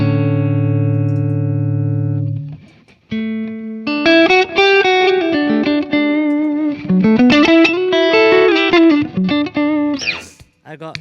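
Electric guitar chords played through a transparent drive pedal on a compact pedalboard with dual delay and chorus, a sustained chord ringing out, then a series of strummed and picked chord changes, loud and alone with no talking.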